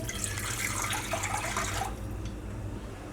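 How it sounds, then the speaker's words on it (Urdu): Water is poured into thick yogurt to thin it for kadhi, a splashing trickle for about two seconds before it fades to a soft, quieter liquid sound. "میں اس میں تھوڑا سا پانی مزید ایڈ کروں گی"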